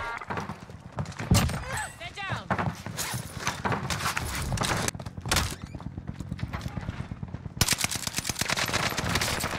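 An Owen submachine gun fires in a shooter video game, sharp rapid bursts cracking close by in repeated volleys, with a player's voice talking over the shooting.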